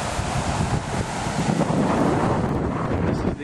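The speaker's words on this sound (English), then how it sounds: "We got some waves out here." Ocean waves roll onto Destin beach on the Florida coast, a steady broad wash of surf mixed with heavy wind buffeting the microphone, loud and continuous with no talk.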